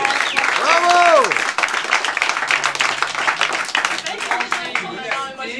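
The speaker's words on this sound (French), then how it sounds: "on peut applaudir, Emilie." An audience breaks into applause at a 2008 music competition in Brittany/Pays de la Loire as a winner is announced, lively clapping under a host's amplified voice with scattered cheers.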